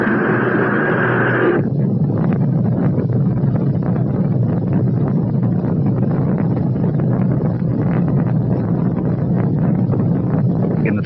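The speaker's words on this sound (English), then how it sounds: "We've gone for main engine start." Rocket main engines igniting at launch, a dense, steady roar that fills the whole stretch without letting up, following a brief tone at the start.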